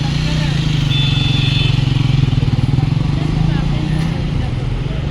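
A new motorcycle's engine runs with a steady, close, throbbing idle-like rumble that holds through the whole stretch, a faint high whine briefly above it.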